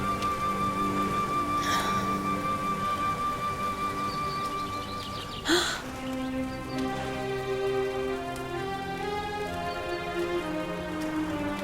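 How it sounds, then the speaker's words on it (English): Rain falls in the video game Dragon Quest XI as a steady patter, with a sharp clap midway and sustained musical tones layered over it. No one speaks. "Looks like the rain's dying down."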